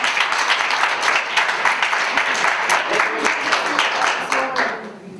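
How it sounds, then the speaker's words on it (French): Audience applause at an interactive theatre session of an Alzheimer's forum, brisk, dense clapping near and loud, with a few voices underneath, fading out in the final second. "On peut applaudir."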